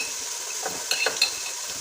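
Carom and fenugreek seeds hitting hot oil for a mutton and cauliflower curry, a soft crackling sizzle with a few brief clinks and stirs close by.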